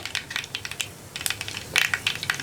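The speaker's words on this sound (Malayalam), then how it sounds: "1 ടീസ്പൂൺ കടുക് ഒന്ന് പൊട്ടി തുടങ്ങട്ടെ." Rapid, irregular pops and crackles of mustard seeds spluttering in hot oil, close and sharp, bursting in quick clusters with no talk.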